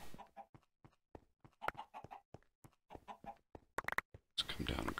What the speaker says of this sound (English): Wow, we got road chickens down here.